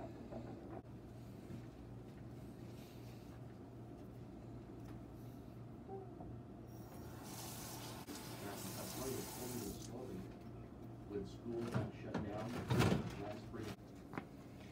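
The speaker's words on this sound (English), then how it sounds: "We are gonna be washing our hands with soap and warm" Water runs from a kitchen tap while hands are washed with soap and warm water, a quiet steady trickle under soft background noise, with splashing and clatter growing louder near the end.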